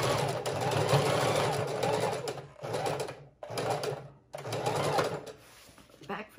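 A sewing machine runs in several bursts, stitching fabric for a junk journal cover, with brief pauses between runs and the motor whirring close and steady.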